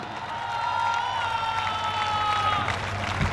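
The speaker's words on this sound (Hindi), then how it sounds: "आप सब जोरदार तालियां बजाइए" An audience at a Hindi poetry recital during a college cultural festival at NIT Jamshedpur claps loudly and steadily for about three seconds, a dense wash of applause with a sustained tone running over it.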